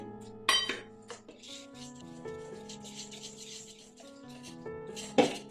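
Besan batter being stirred with water in a bowl for dhokla, with a spoon scraping and clinking against the bowl, two sharper clanks standing out over soft, continuous rubbing.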